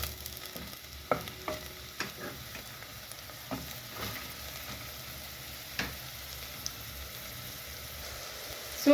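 Ingredients frying in a pan for a green banana matoke stew: a low, steady sizzle broken by several sharp clicks and taps of a utensil stirring against the pan.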